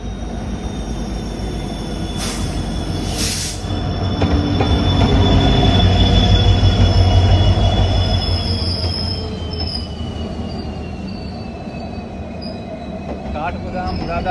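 Kathgodam-Moradabad-Ramnagar passenger train on a single track, its wheels squealing loudly and steadily for the whole stretch with a rumbling rise and fall, a continuous close metallic screech with no talk.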